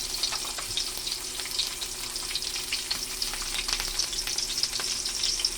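Garlic sautés in a hot pan as the base for Filipino sopas, giving a steady, close sizzle and crackle with faint stirring scrapes throughout.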